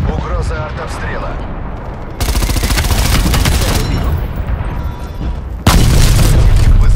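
Loud, booming artillery strike explosions in Call of Duty: Black Ops Cold War burst in heavy, crackling waves, with a short rumbling lull between blasts and a voice warning of shelling early on.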